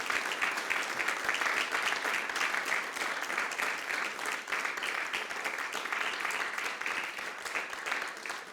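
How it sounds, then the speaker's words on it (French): Church congregation applauding during a Sunday morning worship service, a steady, full wash of clapping that holds evenly for several seconds with no voices over it. "Est-ce qu'il ne mérite pas qu'on l'applaudisse ce matin?"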